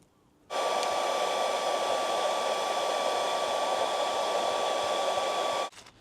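Heat gun blowing hot air onto a part on an L322 Range Rover during accident repair to help glue set, a steady close whooshing whine that switches on, runs about five seconds, then cuts off; no voices.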